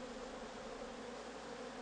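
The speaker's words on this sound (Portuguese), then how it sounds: "Em seguida, as abelhas voltam a trabalhar para fechar o buraco." Honeybees working inside a green-propolis hive box fill the clip with a steady, dense buzzing that holds at an even level throughout, with no voices.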